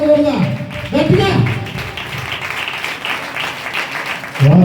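Audience applause welcoming guests onto the stage at a church meeting, a dense, loud wash of clapping that runs throughout, with a voice briefly at the start and end.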